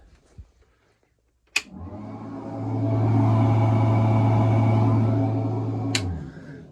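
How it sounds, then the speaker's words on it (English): A bathroom exhaust vent fan on a boat clicks on and runs with a steady, loud hum and whir, then stops with a click after about four seconds. "We have a vent, which is kind of nice for a boat. You turn the switch on."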